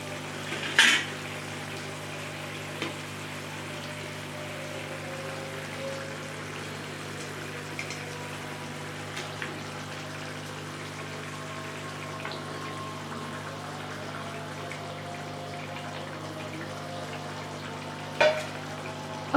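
Fish pieces go into a pan of simmering curry gravy: a steady close sizzle and bubbling, marked by a sharp splash and clatter at the start and another near the end, with no talking.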